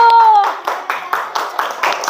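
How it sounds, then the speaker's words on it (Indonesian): Schoolchildren in an elementary classroom clap together in a quick run of close, sharp claps that follows a brief spoken word. "Beri tepuk tangan dulu untuk teman-temannya yang hari ini sudah aktif."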